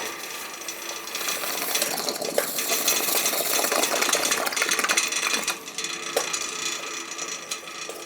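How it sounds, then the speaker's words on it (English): Metal wrench working against a crusty, corroded fitting on an old gas boiler, a continuous dense ratcheting, grinding scrape that stays close and fairly steady for several seconds with a few sharper clicks near the end. "Need a bigger wrench."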